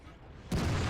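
A single tank cannon shot in World of Tanks, a sudden loud, full-bodied boom that bursts out halfway through after near-quiet engine rumble.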